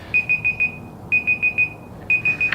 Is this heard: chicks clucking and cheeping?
no